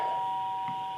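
Front doorbell ringing inside a house, one sustained electronic chime tone heard clearly and slowly fading over about a second.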